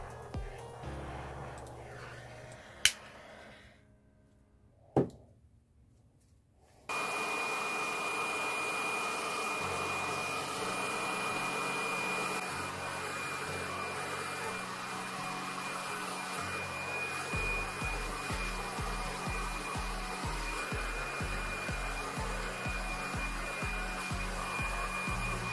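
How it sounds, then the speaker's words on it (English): A hair dryer or heat gun blowing across epoxy resin ocean art, a loud, steady close whoosh that starts after a few seconds of quiet handling clicks and then runs on without a break. "Before I blow the resin with a hairdryer or heat gun"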